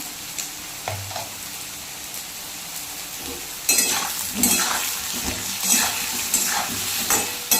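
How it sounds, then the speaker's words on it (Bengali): Potato pieces fry in a pan with salt and turmeric for a pangas fish curry. The sizzle hisses steadily while a spatula stirs and clinks against the pan, and it grows louder and busier partway through. "হলুদ আর লবণ দিয়ে ভালো করে নাড়িয়ে একটু ভাজা করে নিলাম বন্ধুরা।"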